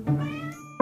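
A cat gives a clear, close meow that rises and lingers, followed by the sharp start of a second short meow right at the end.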